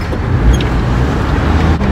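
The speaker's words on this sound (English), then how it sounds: "Sunday Gold Coast traffic at its best." Sunday road traffic on the Gold Coast, a loud close wash of car engines and tyre noise rolling past steadily, heard from inside a van.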